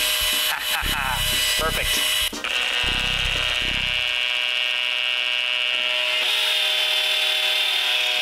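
A power drill spins a rod to wind magnet wire for a light-up baby jumper project, its steady whine holding on as a continuous high tone with a few low knocks and a brief spoken word near the start.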